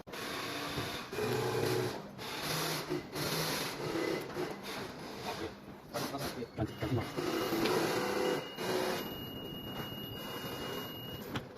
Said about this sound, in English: this is our automatic cutting machine, and now it is cutting a section of the material.